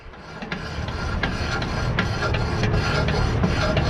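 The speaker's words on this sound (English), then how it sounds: "I think that's mainly rubbing on the belt and the brake here" A Craftsman T110 mower deck rubs against its belt and brake, a continuous gritty scraping drone with faint periodic ticks, fairly loud and steady.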